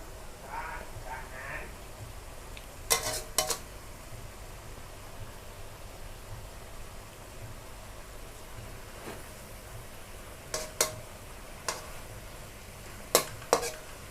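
Chayote shoots stir-fried in pork lard give a faint, steady sizzle, broken by a few sharp clinks of a spatula against the pan.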